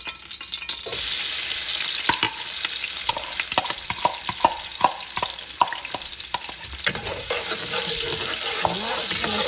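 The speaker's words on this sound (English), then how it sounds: "fry up the onions and everything" Onions frying in palm oil in a pan for egusi soup, a continuous loud sizzle broken by repeated clacking stirs of a utensil against the pan.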